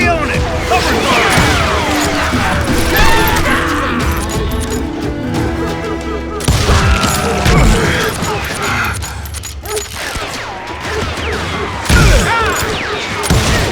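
Gunfire in the Western shooter game Call of Juarez Gunslinger, with dense bursts of shots, crashes and impacts over a busy game soundscape, loud and close, while voices shout in the mix.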